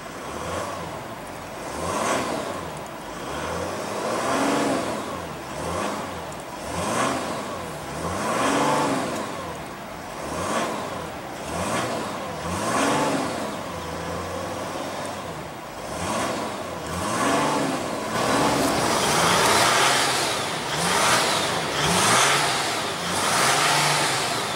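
Diesel V6 in a 2015 Mercedes-Benz GL350 revved repeatedly, each throttle blip rising and falling in a steady rhythm of swells, close and loud, building to a sustained higher rev near the end.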